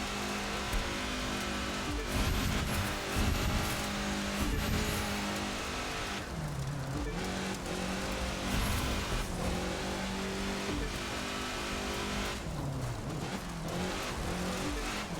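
A race car in The Crew 2 video game roars steadily at high revs, the engine note dipping and climbing through gear changes, loud and continuous, with some tire noise and no talking.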